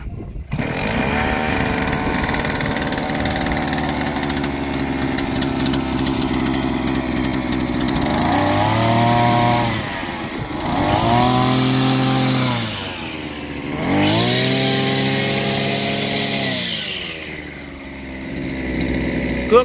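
A backpack-style two-stroke grass cutter with a tilling attachment, a cheap budget model, runs steadily at idle and then revs up in three long, loud bursts before dropping back down. There is no talking.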